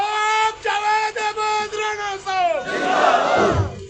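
A crowd at a Jammu and Kashmir political rally in Mendhar chants slogans in loud, rhythmic unison, voices rising in repeated bursts before swelling into a dense roar of cheering near the end.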